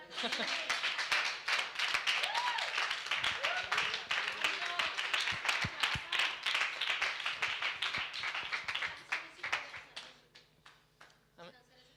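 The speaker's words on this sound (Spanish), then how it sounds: "Yo creo que el Señor se merece un aplauso por esto" A church congregation claps together during a Spanish-language worship service, a dense, steady round of applause that slowly thins and fades toward the end, with voices mixed in.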